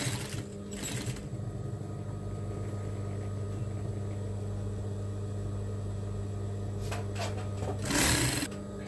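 A sewing machine runs steadily, stitching down pleats on an apron, with a continuous mechanical hum throughout and a brief louder rustle near the end.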